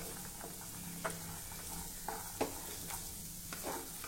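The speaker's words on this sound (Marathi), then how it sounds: "हे मटार घालून आता आपल्याला अजून थोड्या वेळासाठी हे परतवून घ्यायचं आहे." Fresh green peas and carrots sauté in a pan, a soft, quiet sizzle running steadily beneath a few distinct clinks and scrapes of a spoon stirring.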